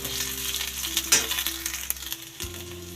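Masala for a chicken gravy fries in a pan with a short, crackling sizzle, punctuated by a sharp metallic clink and a steady low hum underneath.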